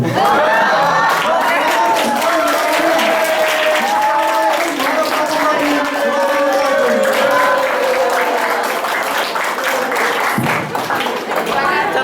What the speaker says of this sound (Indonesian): Sekali lagi tepuk tangan untuk kelompok 3.